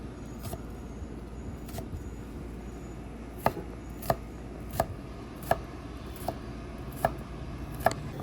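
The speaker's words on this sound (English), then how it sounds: "Then I'm just going to dice up each one of these cloves." A knife dices garlic cloves on a cutting board next to a Blackstone griddle, with sharp, evenly spaced chops ringing out over a steady low background hum.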